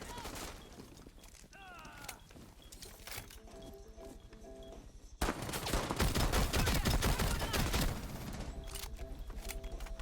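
Gunfire in the tactical shooter Rainbow Six Siege, with scattered shots and footsteps early, then a loud burst of rapid automatic fire from about five seconds that keeps going to the end, mixed with game noise.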